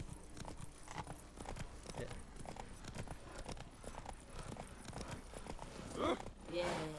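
Horse hooves clip-clop in a steady rhythm while riding in The Witcher 3: Blood and Wine, mixed with game ambience and low spoken commentary, ending in a few brief louder effects.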